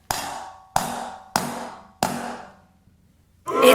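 Spoon striking a Dollar Tree decor item to crack it: four sharp, loud ringing knocks at roughly even intervals, each decaying, followed by another hit at the end.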